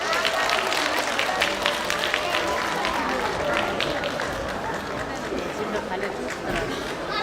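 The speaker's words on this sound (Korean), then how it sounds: "우리 반 친구들에게 박수 한번 크게 보내주시기 바랍니다" Applause and cheering for a class of children at a school performance, dense continuous clapping from a crowd with chatter mixed in, lasting throughout at a steady level.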